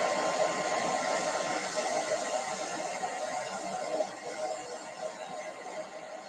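A hair dryer blows steadily and fairly close for the whole stretch, a continuous airy whoosh that dips slightly in level partway through, with no talk over it.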